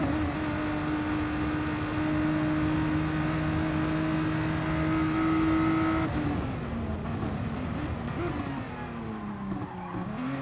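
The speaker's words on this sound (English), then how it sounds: "Jump on board the Revolution Satellite GTR. This thing is an absolute rocket ship." Racing car engine of the Revolution Satellite GTR in a road-track racing video game at Sardegna, a loud sustained high-pitched drone that shifts pitch partway through as it changes gear and accelerates.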